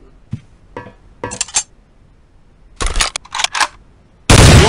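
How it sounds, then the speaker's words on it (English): Short bursts of M4 rifle fire at a target on a range in Soldier of Fortune II: Double Helix, a few sharp shots then clustered volleys, ending in a loud blast of noise, no talk. "Now move to the second booth and pick up the M4. You may fire at the target when ready."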